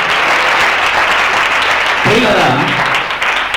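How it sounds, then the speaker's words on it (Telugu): Church congregation claps during a pastor's testimony sermon, steady loud applause throughout, with a voice speaking over it partway through. "చప్పట్లు కొట్టండి"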